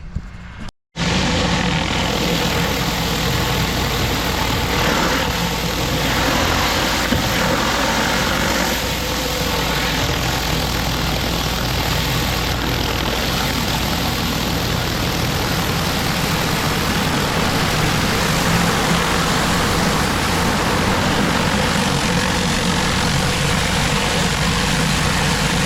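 A Mini Mondo surface cleaner runs over concrete, fed by a 10 GPM pressure washer. After a brief cut near the start it settles into a loud, unbroken engine-like roar that holds steady throughout, with no talk.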